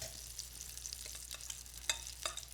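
Fava bean falafel sizzles steadily in hot oil in a pan, a continuous close crackle with a few sharper pops and spits, no voices.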